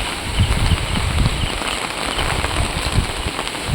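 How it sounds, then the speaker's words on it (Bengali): A storm blows with wind and rain outside a house, a loud, constant rushing roar with dense patter and crackle throughout, no voices. "এখনও ঝড় চলছে রীতিমতো বৃষ্টিও হয়েছে"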